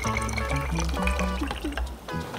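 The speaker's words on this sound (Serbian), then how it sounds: "Sipaću otprilike toliko i vode, najobičnije vode." Plain water pours into a small bottle in a steady, close stream, the pitch rising as it fills.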